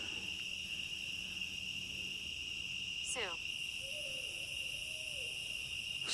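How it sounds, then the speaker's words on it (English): One owl hoots at night in a forest, faint and distant, with a brief quavering call and a soft low hoot over a steady bed of crickets and insects, no voices. "there's an owl over there."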